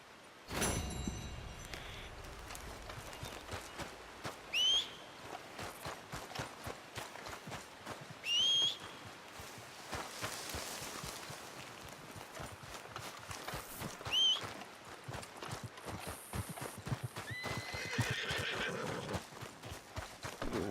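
A horse neighs in the video game Red Dead Redemption 2, with several sharp whinnies standing out over a continuous patter of hooves clip-clopping at a steady pace.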